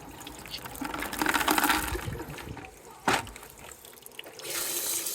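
Running water pours and splashes as aquarium stones are rinsed in a sink or container, with a steady broadband wash that swells, dips, and resumes, plus a sharp clatter midway.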